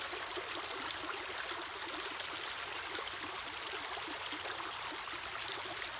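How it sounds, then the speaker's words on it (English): A shallow stream flows steadily beside a reading spot, a continuous close trickling and babbling rush of water with no voices over it. "Can you hear that? So pretty, the water flowing."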